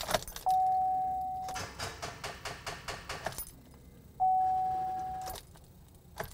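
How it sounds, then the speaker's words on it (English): A car with a weak, nearly dead battery being cranked off a 12-volt lithium jump starter box: a long tone, then a rapid run of rhythmic cranking pulses that die out, followed by a second tone, all close up with no talk. "So we tried to start the car."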